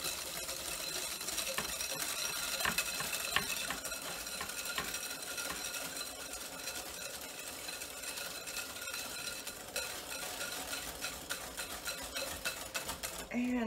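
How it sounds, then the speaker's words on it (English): Sugar and eggs get stirred in a bowl for brownies, a continuous close scraping and swishing that runs steadily with no pauses and no voices. "I'm just going to come back and give my sugar and eggs another quick stir"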